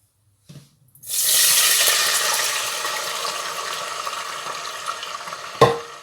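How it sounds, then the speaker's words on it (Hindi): Water poured into a hot pan while cooking jaggery (brown sugar) rice, a sudden loud hiss and sizzle that starts after a short thud and stays steady for several seconds, with a clatter near the end. "अब मैं डालूँगी पानी।"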